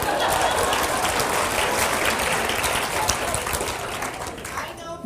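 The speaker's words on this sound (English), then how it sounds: "Let's give him some applause." A crowd at a speaking engagement applauds, dense steady clapping that fills the room and then thins out toward the end.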